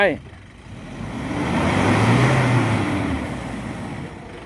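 A Toyota Revo pickup's engine revs hard as it pushes through mud, a broad sustained roar swelling for a couple of seconds and then easing, loud and close.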